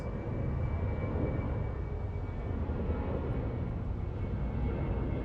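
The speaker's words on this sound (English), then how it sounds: "Wow, that is a very steep and fast takeoff." A Southwest airliner takes off steeply and fast at Los Angeles International Airport, its engines giving a steady, broad jet roar that holds loud and even without letup.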